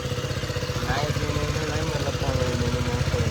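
Motorcycle engine idling steadily nearby with a low, pulsing thrum and light mechanical clatter, loud and continuous, with faint background activity.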